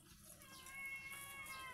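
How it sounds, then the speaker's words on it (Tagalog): Pet cats meow softly, drawn-out cries that overlap within a second or two and sound fairly faint and a little distant. "Yung mga alaga din ako mga pusa guys."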